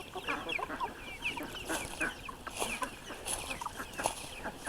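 Hens cluck and chatter in a backyard flock with a rooster among them, soft, overlapping calls coming from near and a little farther off, in a continuous low murmur.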